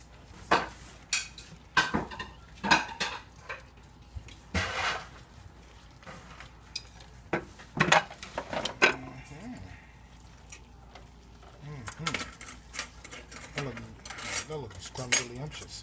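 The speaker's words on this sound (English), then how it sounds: "you want to fold it, people, not stir it" A utensil scrapes and clinks against a pan as a creamy tomato, basil and mushroom alfredo sauce is gently folded, making irregular close taps and soft scraping, with a voice heard at moments.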